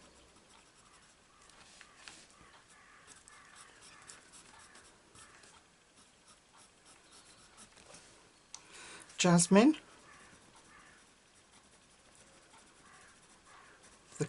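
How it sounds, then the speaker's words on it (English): Crows calling outside on a foggy morning; a single loud, harsh caw stands out midway above faint scratching of a colouring pencil and quiet room noise, with a brief spoken word earlier. "The crows are out in force."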